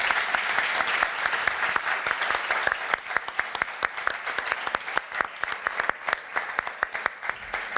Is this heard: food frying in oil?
no